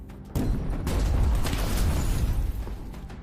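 Secondary explosions from a burning armoured personnel carrier, a sudden blast followed by a rough, sustained rumbling roar at moderate distance, with a few sharper pops near the end.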